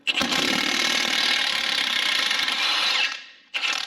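Power tool, likely an impact wrench, spins off a rusted, seized bolt on a Subaru Forester, running loud and steady for about three seconds, cutting out, then giving a brief second burst.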